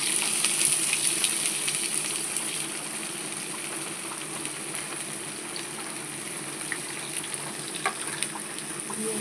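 Chopped onion pieces fry in hot oil with whole garam masala, giving a steady, fairly close sizzle and crackle that holds evenly throughout, with no voices.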